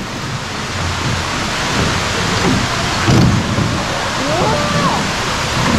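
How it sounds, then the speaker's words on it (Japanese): A waterfall in Takachiho, Miyazaki rushes as a loud, steady broadband roar close by, with a brief exclamation from someone partway through. "滝見えてきたよ。"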